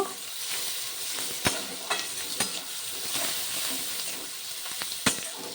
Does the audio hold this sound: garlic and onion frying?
yes